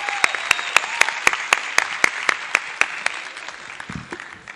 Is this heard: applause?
yes